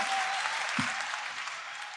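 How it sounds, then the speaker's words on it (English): A crowd at a community meeting in a high school applauds and cheers a suggestion, a dense, sustained wash of clapping that holds steady throughout. "I was honestly kind of shocked to hear so many people cheering that suggestion."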